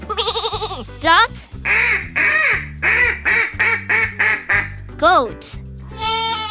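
A duck quacking in a quick run of loud, evenly spaced quacks over upbeat background music, with a spoken word near the end.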